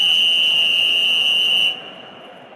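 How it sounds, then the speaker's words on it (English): A referee's whistle sounds one long sustained shrill blast at the start of an amateur London league football final, cutting off abruptly, no talk. "the whistle blows"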